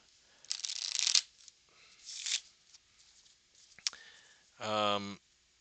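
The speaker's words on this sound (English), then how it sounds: "we're gonna give this the inaugural shuffle" A brand-new deck of playing cards is shuffled by hand for the first time, with bursts of crisp riffling and flicking, a brief pause between strokes, and a final louder riffle and bridge close to the listener.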